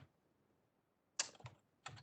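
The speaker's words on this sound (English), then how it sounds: "My typing is so terrible this morning." Keys on a computer keyboard are typed during an online networking class while setting up a switch. Two quiet, quick bursts of clicking follow a near-silent pause, with no voices.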